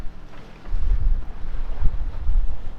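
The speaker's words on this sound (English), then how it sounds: "close hauled at the moment, seem to be straight into the swells, so I'll probably just motor sail" Sailboat motor sailing close hauled straight into ocean swells: a constant low rumble of engine and hull with gusting wind buffeting the microphone, surging louder and softer as the boat rides the waves.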